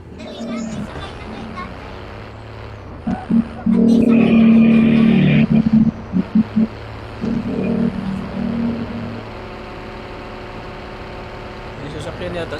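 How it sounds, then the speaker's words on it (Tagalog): A cargo truck's engine idles and revs in a battle royale video game, a steady low rumble with harmonic bands, loudest in a burst midway, while players talk over it. "May sasakyan yata si ate eh."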